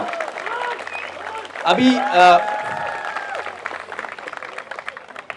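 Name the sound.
audience applause for selected students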